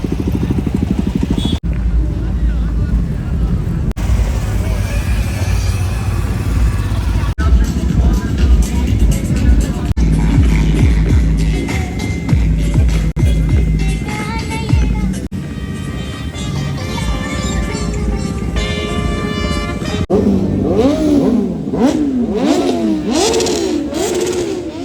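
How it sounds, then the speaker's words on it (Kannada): Motorcycles arriving together on a group ride at a bike week event, loud engine drones and revs that come and go, with a rising, falling throttle sweep near the end and voices talking over it. "ಈಗ ಇಲ್ಲಿ ಬರ್ತಾರಂತ ಬೈಕ್ಗಳು ಅವರವರ ಸ್ಟೇಟ್ನ ರೆಪ್ರೆಸೆಂಟ್ ಮಾಡೋ ಥರ ಒಂದೊಂದು ಗ್ರೂಪ್ ರೈಡ್ನ ಮಾಡ್ಕೊಂಡು ಬಂದಿದ್ದಾರೆ"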